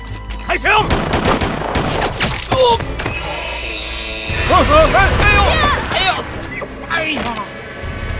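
Gunfire in an anti-Japanese war film, scattered sharp shots and thuds mixed with loud shouting voices.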